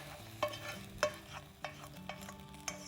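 A cooked tomato mixture is being folded into rice off the heat, giving soft scraping and stirring sounds with several distinct spoon clacks against the pan over a quiet background.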